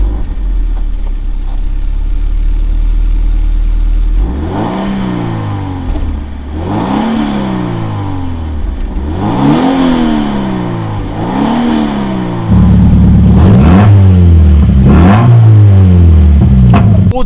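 A Japanese drift car's engine idles, then revs repeatedly in rising and falling sweeps before pulling away, loud and close throughout with no talking.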